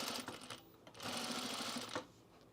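A sewing machine stitching a Carolyn pajama top, close up, whirs in two short bursts, a brief run and then a steadier stretch of rapid needle clatter, with no speech over it.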